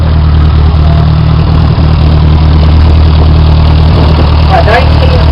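A John Deere Model B tractor engine at a tractor pull at the Lakehead Harvest Reunion, a loud steady low throbbing idle running throughout while a voice talks over it.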